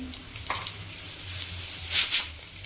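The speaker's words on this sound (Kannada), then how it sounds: "ಸಾಸಿವೆ ಹಾಕ್ತಾಯಿದ್ದೀನಿ" Mustard seeds dropped into hot oil for a millet bisibelebath tempering give a steady low sizzle with a brief crackling burst near the end, fairly quiet and without talk.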